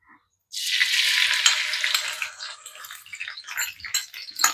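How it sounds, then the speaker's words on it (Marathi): Green chillies dropped into hot ghee sizzle loudly at once, a sustained close frying hiss that gradually breaks into crackling pops as it settles. "आता आपलं साजूक तूप छान गरम झालेलं आहे. त्याच्यामध्ये आधी आपण ग्रीन चिलीज घालून घेऊया."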